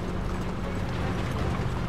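Horse hooves clip-clop steadily in Uncharted 3: Drake's Deception on PS4, mixed into a dense, continuous game soundscape with mechanical rattling textures throughout.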